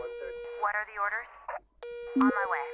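Disconnected-call tone from a 911 Operator emergency-dispatch game, a steady electronic tone and short beeps sitting under continuous talking.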